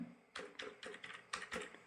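Computer keystrokes entering a mobile phone number, about seven or eight crisp taps in an uneven rhythm, close and clear with no talk over them.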